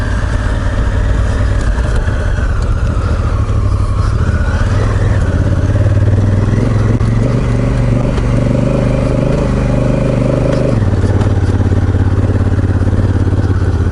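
A Honda Africa Twin motorcycle on a dirt bike trail, its engine droning loud and close throughout, the pitch rising and falling as the rider works the throttle, with a steadier rumble toward the end.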